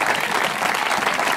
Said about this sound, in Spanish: Denle un fuerte aplauso al Señor esta tarde